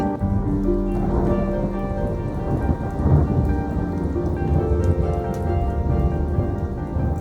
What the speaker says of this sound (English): You never know what's going to happen when a thunderstorm comes.